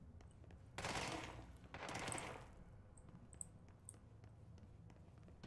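Bursts of gunfire in the video game Control, two dense volleys close together then lighter scattered shots, loud and near, with no talk over them.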